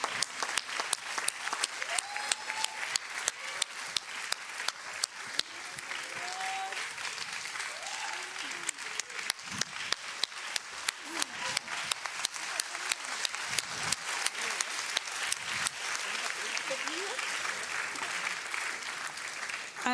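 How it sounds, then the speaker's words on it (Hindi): Steady, lively applause from a television studio audience on a kids' talent show, dense continuous clapping with crisp individual claps, moderately distant, lasting throughout with faint voices beneath. "जोरदार तालियां हो जाए नेहा की गुरु रोशना जी के लिए।"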